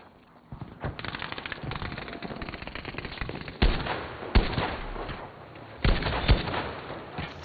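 RSC rifle fire in a video game on a snowy ridge map, a few sharp shots standing out above a busy layer of game noise, with sudden loud bursts punctuating the steady background.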